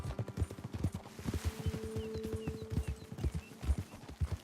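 Horses walking with clip-clopping hooves in the Red Dead Redemption 2 video game, a steady rhythm of close hoofbeats with a brief whinny and a sustained tonal hum in the middle.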